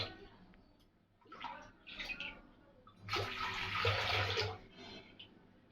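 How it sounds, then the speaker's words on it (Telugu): Three glasses of water poured onto flour in a pot for palathalikalu, heard as several short splashing pours building to one longer, louder gush near the end, with no talk. "3 గ్లాసులు నీళ్ళు వేసాను"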